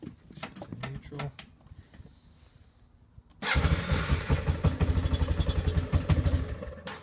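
Yamaha Bear Tracker 250 ATV with a freshly cleaned carburettor cranked from cold: a few seconds of clattering starter attempts, a brief pause, then the engine catches and settles into a loud, rapid, close idle.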